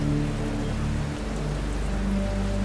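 Steady rain pours in a horror cartoon, a continuous dense hiss with a low droning undertone running beneath it, heard alone without voices.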